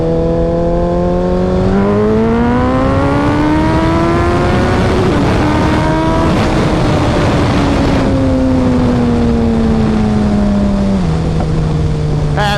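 A Suzuki Hayabusa 1300 motorcycle engine under way, a loud, steady roar whose pitch climbs through the gears, holds high and then drops as the rider eases off.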